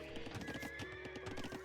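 A horse neighs at a stable in Age of Empires, a faint whinny over a busy bed of clip-clopping hooves and game sounds, with no talk.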